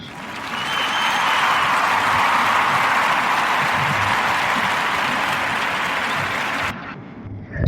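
Sustained applause for Nicholas Watson, who was accepted to over 45 colleges, rising quickly and holding steady and loud for several seconds before cutting off abruptly near the end.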